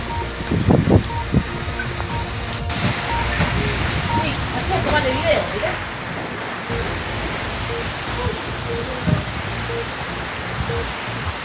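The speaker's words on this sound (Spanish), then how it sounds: "Siento la viento y lluvia, y viento y lluvia." Hurricane Iota brings wind and rain, a steady rushing hiss of rain and gusts with occasional bumps and clatter, while people talk excitedly over it.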